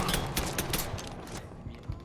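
Sniper rifle fire in Mafia 3, at an amusement park, heard as a few sharp cracks in quick succession over a busy game background, fairly faint.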